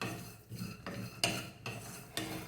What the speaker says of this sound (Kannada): ಕಟ್ ಮಾಡಿಕೊಂಡು ಚೆನ್ನಾಗಿ ಹುರ್ಕೊಳ್ಳೋಣ.